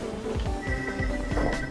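A telephone rings inside the Switch – Or Die Trying video game, a steady electronic trill with repeated bursts over game sounds and soft low thumps, no talking.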